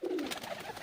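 A pure teddy pigeon coos once, a short soft low call rising and falling over less than a second, faint and close with no voices.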